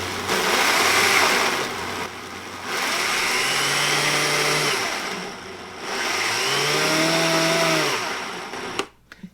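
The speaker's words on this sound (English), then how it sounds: "let's take this over to the blender. And we'll just pulse this a couple of times" A blender whirs in three loud pulses, each a few seconds long with short pauses between, the motor pitch rising as it spins up.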